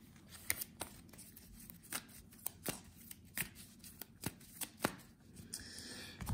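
Cards being drawn and handled during a tabletop board game, with a series of crisp flicks and slides spaced irregularly, close and fairly quiet with no talking.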